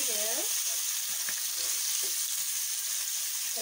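Fish frying in a pan over a low flame gives a steady, close sizzle with soft crackling throughout and a few light utensil taps, with no voices.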